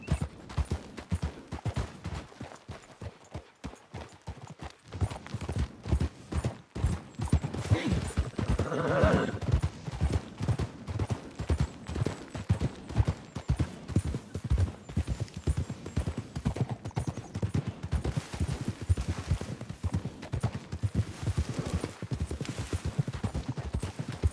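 Horse galloping in the Red Dead Redemption 2 video game, steady rapid hoofbeats that continue throughout, with a whinny partway through and faint game speech underneath.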